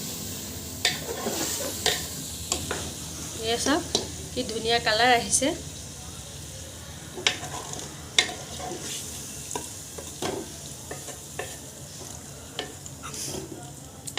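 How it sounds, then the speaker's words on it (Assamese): Chicken frying in a pan for a chicken and egg biryani, a steady sizzle with scraping stirs and clinks of a utensil against the pan, while someone talks over the cooking. "এনেকৈ আমি এতিয়া পানী যেতিয়ালৈকে চিকেনৰ পৰা নোলায় তেতিয়ালৈকে আমি 5-10 মিনিট এনেকৈ ভাজি থাকিম।"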